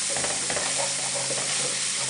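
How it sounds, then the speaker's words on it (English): Onion frying in a pan for a chicken pasta sauce, a steady dense sizzle with faint scraping along the pan bottom, close and even throughout. "we're gonna cook our onion for a little bit"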